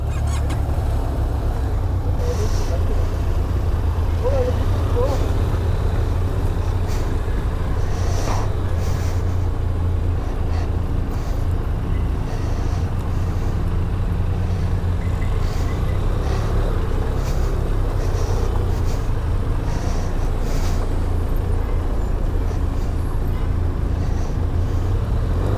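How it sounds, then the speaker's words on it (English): Several Benelli TRK 502 motorcycles run together at an owners' meet at Nandi Hills, a continuous low engine rumble throughout with occasional faint honks or calls from the group. "Let's fire the engine."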